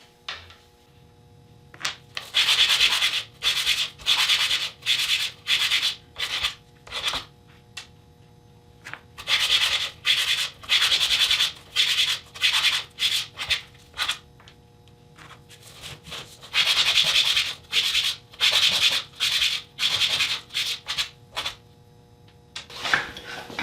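Segmented wooden eye pieces are sanded by hand in short bursts of dry, raspy scraping, repeated in quick rhythmic strokes with brief pauses between, close and fairly quiet.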